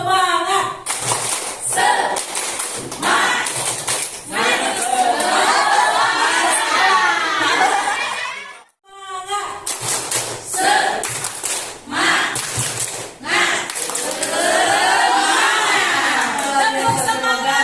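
Group of adults in an indoor teacher gathering performs a rhythmic spirit clap, sharp patterned bursts of clapping and chanting voices in two rounds separated by a brief pause, with chatter and laughter around.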